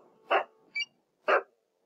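A dog barks twice in short, sharp, fairly close yelps, with a small higher yip between them and a quiet pause after each.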